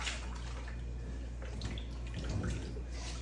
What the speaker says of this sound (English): go ahead and submerge it in this cold water